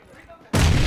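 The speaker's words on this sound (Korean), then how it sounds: "수류탄." A grenade explodes in PUBG, a sudden loud, close boom that fills the sound and holds to the end after a brief quieter lead-in.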